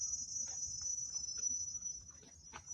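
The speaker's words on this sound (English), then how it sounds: "All those cicadas during summer, sometimes they going crazy with these sounds." A constant high-pitched cicada drone buzzes without pause on a cacao farm, with faint low rustling and scattered soft noises underneath.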